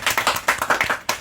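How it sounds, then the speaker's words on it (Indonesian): About eight sharp hand claps, close and distinct, in a quick, slightly uneven rhythm, with no other sound around them. "Tepuk tangan dulu."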